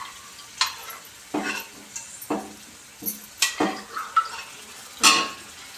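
Chicken pieces for a dry Maharashtrian chicken dish are stirred in a hot pan, with intermittent scraping and clattering strokes over a soft sizzle, close and moderately loud, with no talking.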